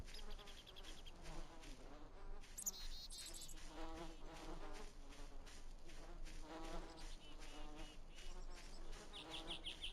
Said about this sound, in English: I've got like bugs flying around me